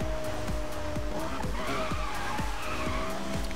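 A car drifts in the racing game Need for Speed: Most Wanted, its tires squealing and skidding continuously while the engine drones and revs in repeating surges, loud and close throughout with no talking.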